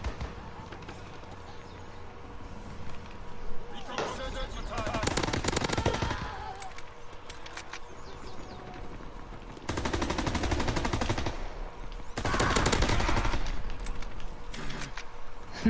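Bursts of MP40 submachine gun fire in the World War II shooter game Call of Duty WWII, loud rapid rattling volleys around 4–6 s, 10–11 s and 12–14 s over a busy game background.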